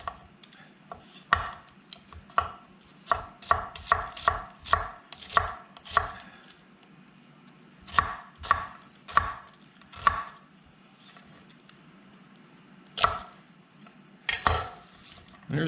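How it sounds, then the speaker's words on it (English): A knife slices kielbasa sausage on a cutting board in a run of distinct, evenly spaced chops. A few pauses break the run, and a couple of louder knocks come near the end. "So 1 slice down the middle, I'm going to do these little,"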